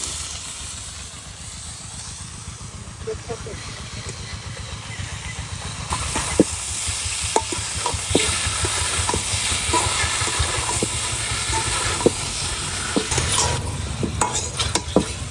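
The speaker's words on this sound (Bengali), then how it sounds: "এবারে এই কষানোর মধ্যে আমি মাংসের টুকরোগুলো দিয়ে দিচ্ছি একে একে।" Chicken pieces sizzle and hiss in hot spice masala as a spoon stirs them, a steady frying crackle punctuated by sharper scraping knocks against the pot that grow busier midway.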